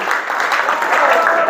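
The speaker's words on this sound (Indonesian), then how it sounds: "Tepuk tangan buat Rehan" A classroom of students claps for a classmate during a music lesson, a short burst of quick, loud, close clapping with a faint voice mixed in.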